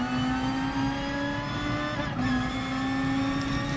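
A Ferrari race car engine in Gran Turismo Sport, a steady tonal drone holding near one pitch with a short dip midway, close and continuous with no talking.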